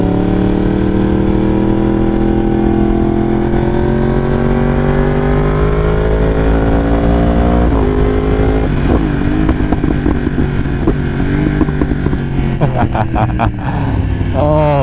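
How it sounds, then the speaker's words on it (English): A 193 hp motorcycle cruising, its loud engine droning steadily with rising and falling revs, then a burst of sharp exhaust pops and crackles near the end. "Unbelievable, the sounds that come out of this bike."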